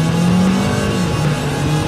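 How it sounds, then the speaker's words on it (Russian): A 2017 Volkswagen Polo GT with a 1.4 TSI engine accelerating hard during a test drive, a steady loud engine drone heard from inside the cabin. "Давайте, друзья, протестируем разгон."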